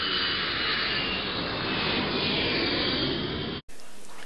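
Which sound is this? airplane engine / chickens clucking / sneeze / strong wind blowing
airplane engine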